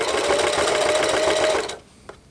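A Singer Heavy Duty sewing machine hemming jeans runs in a fast, loud, steady mechanical whir for about a second and a half, then stops, leaving a brief quiet with one small click.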